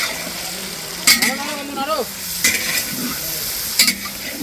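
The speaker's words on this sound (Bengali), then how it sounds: "আমাদের আলুটা ভাজা ভাজা হয়ে গেছে এখন আমরা আলুটাকে তুলে নেব" Potatoes fry with turmeric and salt, a steady sizzle under repeated stirring and scraping of the pan, with a few sharp clatters and bits of talk.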